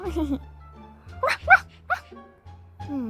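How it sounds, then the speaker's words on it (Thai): In the Toca Life World game, a cartoon dog lets out a few short yips and barks amid a family roleplay scene, with people talking before and after the dog sounds. "มินนาจ๊ะมินนา เล่นกับสุนัขอยู่หรอ"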